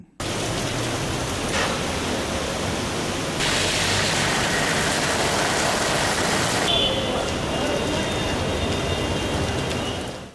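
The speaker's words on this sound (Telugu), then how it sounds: "తిరుపతిలోని కపిలతీర్థం జలపాతం ఉధృతంగా ప్రవహిస్తోంది" Kapila Theertham waterfall in Tirupati pouring forcefully after heavy rains, a steady, dense roar of rushing water that holds unbroken throughout, swelling brighter and louder in the middle stretch before settling back.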